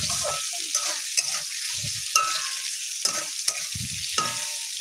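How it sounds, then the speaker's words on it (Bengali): Ginger, cumin, chili powder, salt and turmeric frying in oil in a pan for a home-style vegetarian paneer and potato dish, with a steady close sizzle broken by repeated scraping stirs. "এটাকে একটু ভাজতে দেব।"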